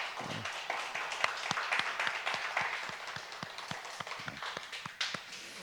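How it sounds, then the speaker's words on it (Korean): Congregation at a Friday late-night prayer service in church clapping in encouragement, a fairly sparse and distinct rhythmic patter of hands, moderately quiet and without talk over it. "우리 다시 한번 박수로 격려합니다"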